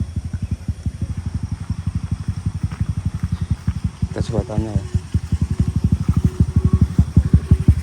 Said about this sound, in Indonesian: Ada suara motor dari belakang